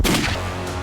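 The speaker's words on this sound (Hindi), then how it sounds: "ये तो गोली की आवाज है।" A sharp, loud gunshot crack with a brief second burst, heard up close in a Hindi crime drama scene, with no talk over it.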